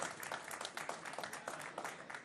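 A darts crowd at the Lakeside WDF World Championship applauds a 120 score, giving quiet, steady clapping from a distance.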